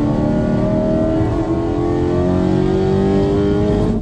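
A car engine roars loudly and steadily on Avenida Europa, its pitch climbing slowly as it revs for about four seconds, close and continuous with no talking.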